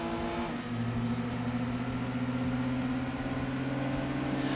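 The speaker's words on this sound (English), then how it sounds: "now that I put that racing exhaust on, the thing sounds a lot better." A car fitted with a racing exhaust revs steadily in Gran Turismo 2, its engine drone holding a constant pitch under a faint background hum.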